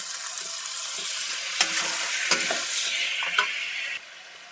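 Chicken meat frying in cooked-down masala for a curry, a close, steady sizzle with several scraping stirs of the spoon, then the sizzle drops away near the end.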